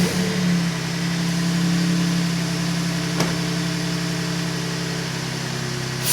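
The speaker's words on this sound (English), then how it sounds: "This thing is sucking air." A boosted truck engine runs steadily with a deep, even drone and airy intake rush, holding a constant note with one brief click midway.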